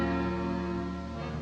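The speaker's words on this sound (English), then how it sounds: "The gopher bell!" A bell rings in the 1941 Woody Woodpecker cartoon Pantry Panic, a single sustained metallic ring that slowly fades over a second and a half, loud and alone.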